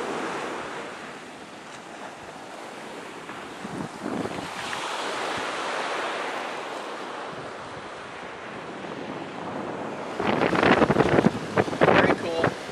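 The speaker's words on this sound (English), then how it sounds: "this is apparently the longest white sand beach in all of Hawaii." Ocean waves wash onto the longest white sand beach in Hawaii, a broad rolling surf that swells and recedes under gusty wind buffeting the microphone, growing rougher and louder near the end.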